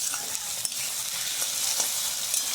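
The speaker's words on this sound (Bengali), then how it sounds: "এবার এই তিনটেকে আমি সুন্দর করে ভেজে নেব।" Chopped onion and garlic fry in a pan, a steady bright sizzle running throughout with a few faint stirring scrapes and clicks, close and even, no voices.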